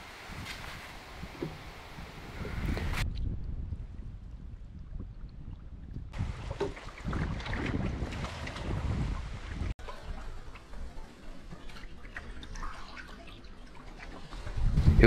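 Wind gusting over a lake in Algonquin Park during a solo canoe trip, a broad rushing roar that rises and falls over the water, with faint lapping and trickling, no voices.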